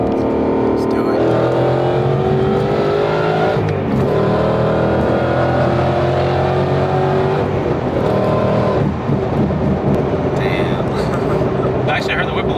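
Whipple-supercharged Ford Mustang at wide-open throttle, loud and continuous from inside the car, with rising engine and blower harmonics through a full pull and a brief shift dip, while people talk over it.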